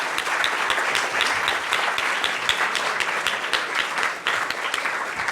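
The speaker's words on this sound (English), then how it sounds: "Let's give an applause to James Fearon again." Sustained, dense applause from a lecture audience honoring the speaker James Fearon, an even wash of many hands clapping that continues without pause at a steady, moderately loud level.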